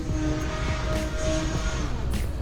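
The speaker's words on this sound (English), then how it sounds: "The single prop does a ton of work to keep the plane stable and aerobatic throughout the routine" An E-flite Turbo Timber RC plane flies aerobatics on its single propeller engine, giving a continuous buzzing whine with a steady pitch that sits over a broad wash of wind and outdoor noise.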